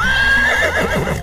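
A horse gives one loud, close whinny, a high wavering neigh that falls in pitch and breaks into shaky bursts toward the end, with a faint thud of hooves beneath.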